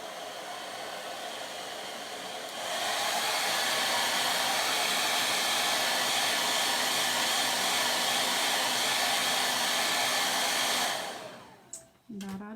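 A hair dryer blows steadily to dry chalk paste on a stencil, a loud continuous whoosh that starts softer, rises to full power and holds for several seconds before winding down and switching off near the end.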